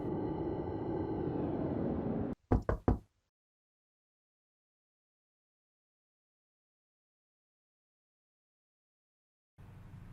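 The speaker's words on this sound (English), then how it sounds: "My mom knocked on the door" Three quick, sharp knocks on a door sound close by, right after a steady rushing noise cuts off, and then silence follows.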